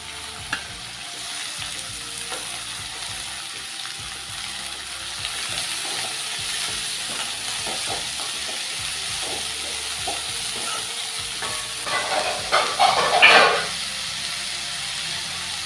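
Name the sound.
amaranth greens frying and sizzling in a pan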